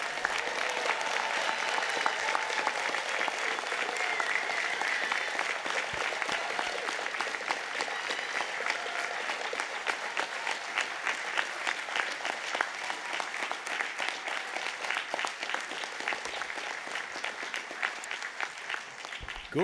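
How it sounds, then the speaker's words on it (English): Sustained applause from families at a university business school graduation ceremony in a great hall, a dense, steady clapping that fills the room at full strength throughout, easing only slightly toward the end. "Raucous applause from family"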